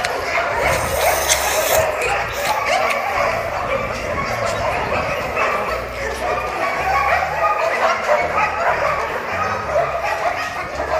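A trained canine named Martin barks and yips repeatedly during a session with its handler, the busy barking mixing with someone talking over it throughout.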